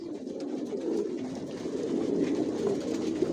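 Racer pigeons coo continuously in an overlapping low murmur, a steady chorus of several birds close by with no talking.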